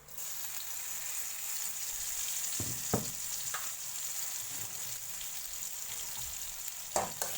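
Garlic and chili stir-frying in a pan for a duck kra pao dish, with a steady sizzle and a few louder clanks of the spatula scraping and tossing.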